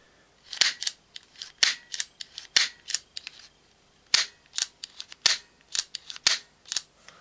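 Anics Skif A-3000 air pistol being dry-fired and cycled after assembly: a series of sharp metallic clicks and snaps, some in quick pairs, with a few pauses between, close and fairly loud with no talking.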